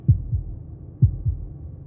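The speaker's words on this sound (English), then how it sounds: "That was the sound of a heartbeat" A heartbeat sound effect in the video game Slay the Princess: two deep, muffled lub-dub double thumps about a second apart, close and prominent over a faint low drone.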